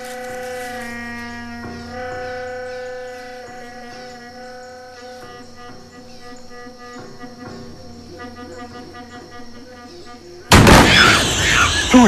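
An arquebus fired in a historical drama, a single sudden loud blast near the end after a stretch of quieter ambient sound, with a noisy decaying burst afterward.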